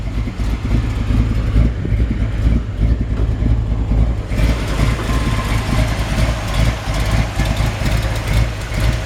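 A 1965 Ford F100 truck engine idles steadily with a deep, lumpy rumble that stays loud and close throughout, and no voices can be heard.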